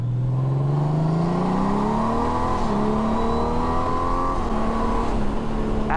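A 2022 Honda Goldwing touring motorcycle engine revs up steadily, its pitch climbing as it accelerates, with a continuous droning roar close by.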